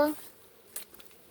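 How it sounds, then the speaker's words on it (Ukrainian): Faint buzzing of bees circling a hive, a soft insect drone with a few light clicks and taps, quiet and fairly close. "І бджоли почали крутитися навколо цього вулика, бачите?"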